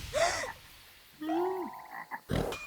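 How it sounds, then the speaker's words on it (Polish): Several frog croaks in the animated series Stacyjkowo (Chuggington) sound one after another, some rising and falling in pitch, fairly close, with short pauses between calls. "Co to znowu było? Żaby!"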